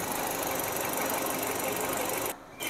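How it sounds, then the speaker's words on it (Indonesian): Engine of a used family car running at idle, a steady, close, even mechanical hum with a brief dip near the end. "Seperti biasa, mesin udah hidup."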